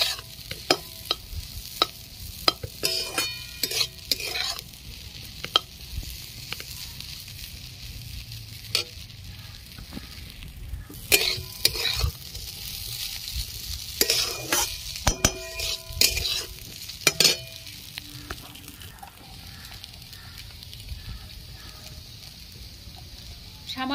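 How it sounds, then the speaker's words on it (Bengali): Boiled winter vegetables with curry leaves being stir-fried in a pan: a soft sizzle with repeated scraping and clinking of a utensil against the pan, in irregular bursts over faint background music. "আর একটু লাল লাল করে ভেজে নেব।"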